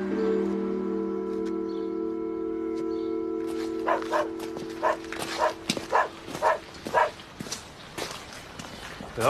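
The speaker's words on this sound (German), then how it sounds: "Ist das Ihr Hund?" Dog barking and whimpering in short irregular bursts alongside footsteps, following a sustained tonal background, fairly close and loud.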